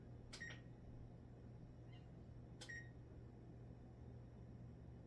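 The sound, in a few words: oven timer being set, beeping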